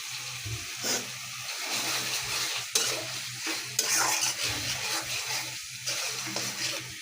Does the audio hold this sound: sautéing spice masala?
yes